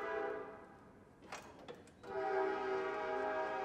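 A train passes near a workshop where a Silverado cab swap is underway, its sustained, loud horn blaring with layered tones that dip briefly in the middle and then resume over rumbling rail noise.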